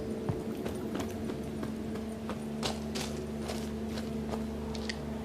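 Light, steady hoofbeats of a horse in The Witcher 3 clop along at a walking pace over a constant low hum, with faint creaks now and then and no talking.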